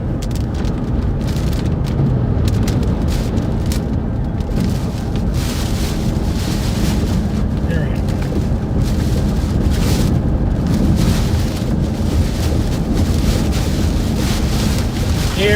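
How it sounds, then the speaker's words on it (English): Strong wind gusts buffeting the microphone during an Illinois storm, heavy rumbling roar with bursts of harsher gusting throughout, loud and continuous for the whole stretch. "Those wind gusts are extremely strong."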